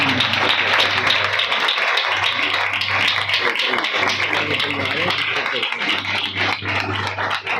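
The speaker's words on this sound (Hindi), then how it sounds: "जोरदार ताली हो जाएगी खुदा की" Loud, sustained applause from a church congregation clapping for God during a worship service, dense and continuous, with a voice speaking over it and a low steady hum beneath.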